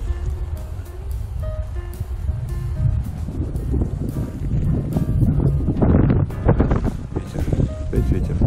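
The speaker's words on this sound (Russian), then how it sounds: "Ветер, опять ветер." Wind blows hard across a frozen lake during winter ice fishing, roaring and buffeting the microphone in heavy gusts that swell louder toward the end, with faint tonal whistles and thumps mixed in.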